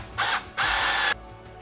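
A ratchet tightening a bolt on a shaft coupling while an electric generator is assembled from an alternator and a motor: two close bursts of rapid clicking, the second longer, separated by a short pause.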